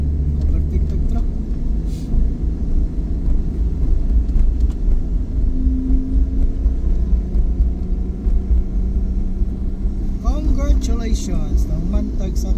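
A Suzuki DA64V 4x4 automatic van with the air conditioning on climbs a hill, its engine a steady low drone with road rumble running throughout. Brief voices and a passing vehicle come through near the end.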